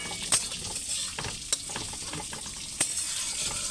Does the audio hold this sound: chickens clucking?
no